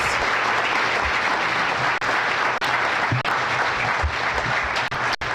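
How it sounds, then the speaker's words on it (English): A conference audience at a library technology panel applauds the panelists, loud and continuous with several sharp nearby claps standing out. "let's give a big round of applause to the panelists"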